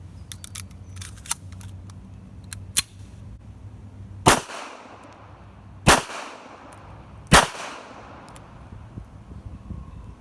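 Three loud, sharp gunshots from a rusty Bulgarian Makarov pistol ring out alone at spaced intervals, each with a brief decaying tail, preceded by a few small clicks from handling the gun.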